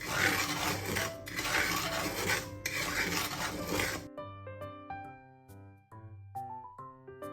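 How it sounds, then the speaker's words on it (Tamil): Semolina being dry-roasted and stirred in a pan for a fruit cake gives a dense, continuous scraping and rubbing for about four seconds, followed by quiet music. No one speaks. "100 கிராம் ரவை லைட்டாக வறுத்து கொள்ள போகிறேன்."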